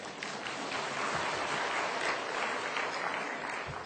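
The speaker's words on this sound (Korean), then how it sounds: "축하 박수 한번 해요" A church congregation claps steadily for several seconds during a sermon, a dense, even patter of applause filling the room without any voices on top.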